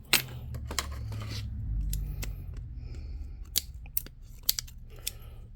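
Dull scissors snip at a Warhammer 40K miniature craft project, giving a series of sharp, close clicks and cuts spaced irregularly over a faint low hum.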